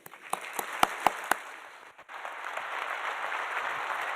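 Applause builds from a few separate claps into steady, broad clapping from a conference audience welcoming Dr. Calvin Mackie, and it carries on without voices over it.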